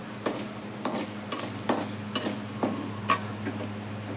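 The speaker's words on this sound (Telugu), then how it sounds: "ఇప్పుడు వీటిని గోల్డెన్ కలర్ వచ్చే అంతవరకు ఫ్రై" Sliced onions frying toward golden brown in a pan for a ridge gourd and chana dal curry, a steady sizzle punctuated by sharp, evenly spaced spatula taps and scrapes against the metal.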